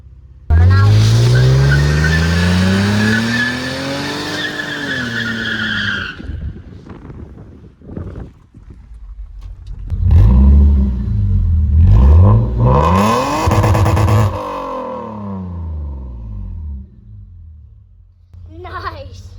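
A V8 LS-swapped Toyota Prius does a burnout, its engine revving loud and close with rising and falling pitch and broad tire-squeal noise, roaring in bursts with a lull in between.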